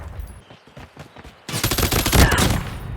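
HG40 submachine gun firing in Call of Duty Mobile: brief scattered shots, then a dense rapid burst of automatic fire that stays loud and steady to the end.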